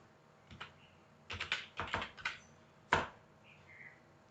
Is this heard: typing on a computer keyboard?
yes